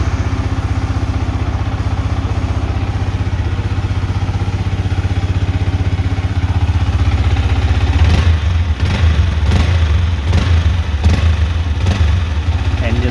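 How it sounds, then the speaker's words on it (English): A Yamaha R15 M motorcycle with about 4,750 km, fresh from an oil change with Castrol Power 1 Ultimate, idling steadily and close up; a few sharper throttle blips come in near the end. "Engine sounds smooth"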